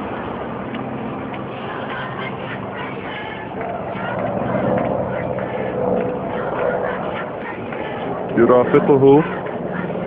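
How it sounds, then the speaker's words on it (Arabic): A military jet passes over Darayya in the Damascus countryside during a women's sit-in, making a broad, sustained roar. A voice speaks over it throughout. "تحليق طيران حربي."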